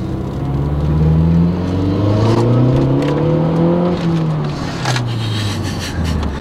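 A tuned Mazda MPS with added boost revs up down a straight, its engine note rising loud and close, then easing off before building again.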